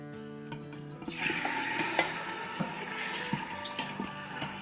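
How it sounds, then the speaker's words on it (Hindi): About two pounds of chicken drop into roughly six tablespoons of hot oil in a pot for a quick one-pot biryani, setting off a sudden, steady, bubbling sizzle punctuated by light clicks of stirring. "तो उस पर अब हम डालेंगे तकरीबन 6 टेबलस्पून तेल, और अब इसमें हम डाल देंगे, यहाँ हमारे पास 2 पाउंड चिकन है"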